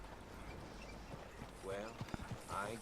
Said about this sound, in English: ahí están los horses